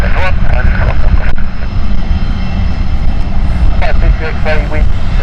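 A fixed-wing airliner takes off from runway 27 at London City Airport, its engine roar loud and continuous throughout, with radio talk over it.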